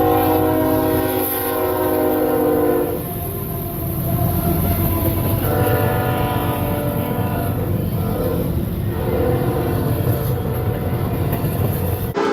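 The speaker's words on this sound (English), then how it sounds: "He's also filmed freight trains." Freight train rolling past with a steady loud rumble and clatter of railroad cars, a sustained horn blast sounding over it for most of the passage, no voices.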